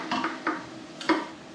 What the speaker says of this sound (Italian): adesso verso tutti i broccoli